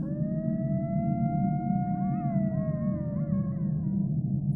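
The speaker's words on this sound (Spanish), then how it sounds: "empezó a escuchar muy a lo lejos como los coyotes" A long, drawn-out howl in the night, like coyotes far off, rises and wavers as one steady tone over a constant low rumble, with no talking.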